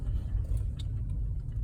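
Steady low road rumble of nearby cars passing alongside a vehicle fitted with a bumper-mounted blind-spot sensor, continuous and fairly loud without distinct pass-bys.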